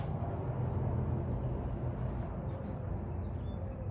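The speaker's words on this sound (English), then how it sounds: "You can hear the cars going by." A steady low rumble of traffic, with cars passing at a distance in a continuous wash of road noise.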